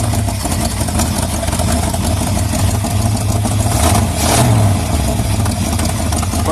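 A hot rod engine runs after carburetor and timing work, a loud, close, rough idle with a brief swell of revving partway through, and no talk.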